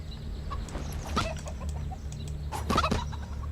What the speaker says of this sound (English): These chickens are still so very annoying